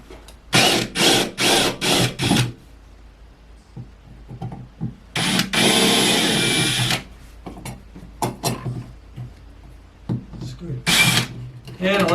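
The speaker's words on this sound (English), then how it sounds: "Now I'm taking off the metal faceplate cover." A metal faceplate cover comes off an exterior front-entrance light fixture in several loud mechanical bursts: a quick run of five short buzzing pulses, then one longer whir, a later short burst and scattered clicks, with quiet gaps and some talk.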